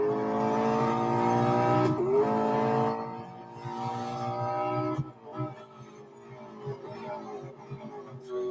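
A race car engine in Real Racing 3 holds a high, strained whine that dips and climbs through gear changes, then fades into quieter revs with brief tire noise.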